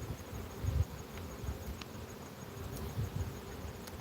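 Honey bees buzzing around a hive while honey is pulled outdoors, a continuous low drone with individual bees passing close, no talking.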